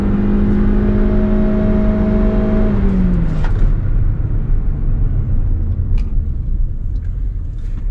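Honda Civic and Toyota Corolla in a drag race, steady loud engine drone with a falling pitch as gears change near three seconds, then a broad rumbling roar of cars running on.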